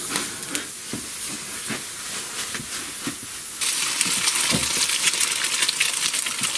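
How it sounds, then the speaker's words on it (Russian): Steady crackling sizzle of butter frying in a pan for eggs, close and continuous, with small pops, growing louder and hissier partway through. "Тут у нас маслица шкварчит."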